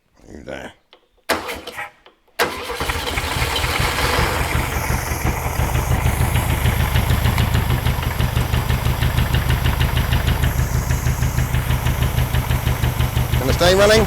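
A VW Beetle 1500 air-cooled engine, not started for 50 years, catches after a few stuttering attempts and settles into a loud, steady, rhythmic chugging idle up close, with someone speaking over it.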